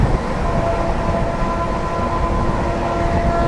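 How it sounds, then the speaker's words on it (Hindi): New Delhi–Gaura weekly Humsafar Express approaching as a steady, loud rumble of rolling wheels and a running engine with a sustained low hum, continuous throughout with no voices. "सामने से आ रही है new Delhi Gowda weekly Humsafar express"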